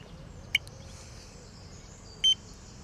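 A carp fishing bite alarm gives two short electronic beeps, one near the start and a slightly longer one later, each standing out sharply against a quiet, faintly hissing bankside background.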